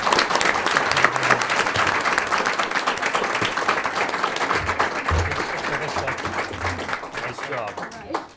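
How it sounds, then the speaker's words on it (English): Sustained applause from a gathered audience at a school committee meeting honoring certificate recipients, dense steady clapping lasting the whole stretch with some voices mixed in and a slight fade at the end. "And how about a round of applause?"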